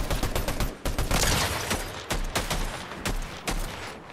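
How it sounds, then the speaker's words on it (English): Monarch pistol fired in Fortnite, a series of sharp, loud shots in uneven bursts with brief gaps between them, close and punchy. "That's how you use the Monarch pistol."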